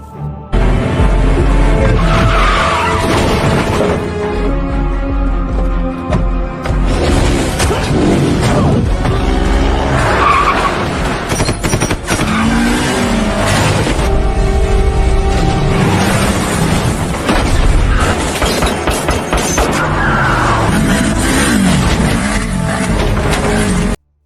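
Cars in a gangster shootout chase at a crossroads, with dense continuous engine roar, whooshes and crashing impacts mixed under loud dramatic music for the whole stretch.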